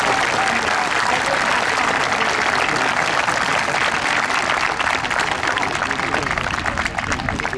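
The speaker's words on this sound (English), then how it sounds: "join me in a round of applause for Colonel Retired Carter" Steady, full-room applause from an audience at a West Point class reunion, many hands clapping continuously and evenly throughout with no break.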